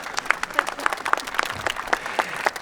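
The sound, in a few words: audience applause at graduation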